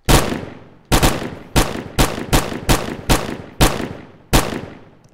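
Guns firing in VRChat, nine loud close shots spaced unevenly about half a second apart, each a sharp crack with a short decaying tail, no voices.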